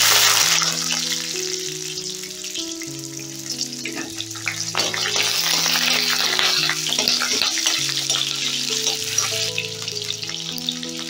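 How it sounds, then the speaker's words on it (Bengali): Cubed onion sizzles steadily in a hot pan, a loud continuous frying hiss with scattered crackles and a few stirring clicks, while soft background music runs underneath. "এবারে কিউব করা পেঁয়াজটা দিয়ে দিচ্ছি"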